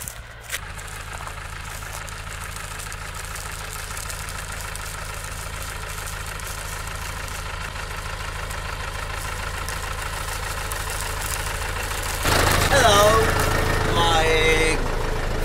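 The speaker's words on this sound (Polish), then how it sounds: "Zdrowy motor, czwartą budę ciągnie." A Lamborghini R4.110 tractor engine idles steadily at close range, a low continuous rumble, then grows louder near the end as other noise joins; voices are heard in the background.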